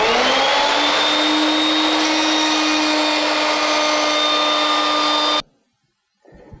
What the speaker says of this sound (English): make a little shallow rabbet on both sides of this dado